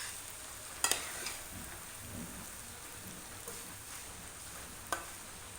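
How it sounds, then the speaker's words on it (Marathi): Hakka noodles frying and being stirred in a pan, a steady soft sizzle with a few sharp clinks of the spatula against the pan, close and alone without talk. "आता ह्याला आपल्याला हलवायचं आहे"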